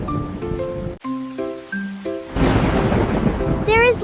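Storm with lightning: after a short musical jingle, a loud crack and rumble of thunder breaks over steady rain, ending in a brief chime.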